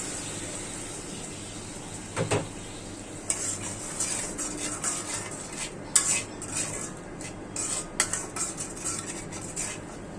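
Turmeric, chilli, salt, ginger paste and onion fry together in a pan while a utensil stirs them. A low sizzle sits under clinks of metal on the pan and scraping strokes that come in irregular bursts, with no talking.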